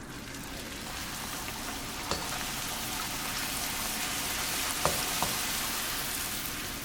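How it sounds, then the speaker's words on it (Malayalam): Wheat flour bhatura deep frying in hot oil, a steady, dense sizzle with a few faint clicks of a utensil, continuous and fairly close throughout. "ഇനി നമുക്ക് ഇതും ഫ്രൈ ചെയ്തെടുക്കാം."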